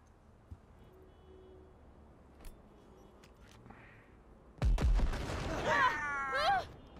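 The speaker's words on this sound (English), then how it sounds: "Naturally, we're going to have to throw a grenade" An in-game grenade blast, thrown in an Xbox video game, bursts in loud and sudden after several seconds of quiet room hum, trailing into a rumbling, ringing aftermath with whistling high tones.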